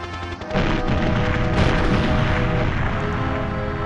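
A helicopter explodes in the Nintendo 64 game GoldenEye, a loud booming blast that erupts suddenly and rolls on as a dense, crashing roar, fading only slightly over several seconds.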